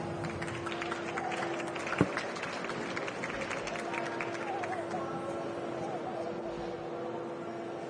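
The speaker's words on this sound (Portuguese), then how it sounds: "Então eu queria uma grande salva de palmas, eu vou chamar o CEO da EmbraerX, o Daniel Motti." An audience claps to welcome the Embraer-X CEO on stage at a talk on urban air mobility, a soft continuous patter of applause with one sharp thump, fairly distant under a steady hum.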